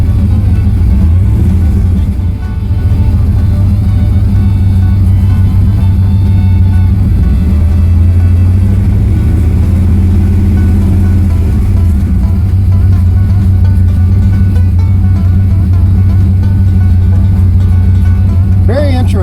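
A Pontiac Firebird engine idles on a freshly changed set of spark plugs with a missfire, a loud steady low rumble that carries on throughout while someone talks over it.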